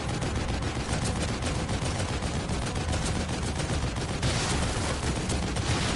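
Rapid bursts of machine-gun fire in the video game The Evil Within crackle almost nonstop for several seconds, dense and harsh, with game-like explosive reports layered in.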